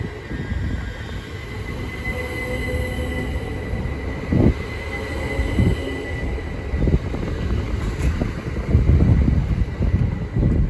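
A Greater Anglia electric multiple unit train, with unit 379017 on the rear, rolls past at Cambridge with a steady rumble, wind buffeting the microphone and brief wheel clatters and squeals rising near the end.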